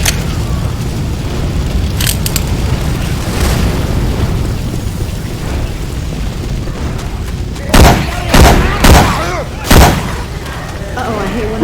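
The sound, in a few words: gunfire from Syphon Filter weapon sounds in video game Left 4 Dead 2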